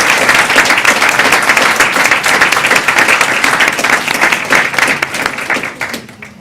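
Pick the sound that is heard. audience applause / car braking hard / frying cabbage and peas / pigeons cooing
audience applause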